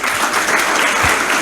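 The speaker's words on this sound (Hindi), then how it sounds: "मैं चाहूँगा आप लोग तालियाँ बजाएं।" Loud, close audience clapping at a police road safety month closing ceremony, a brief dense burst of many hands with a few low thumps in it.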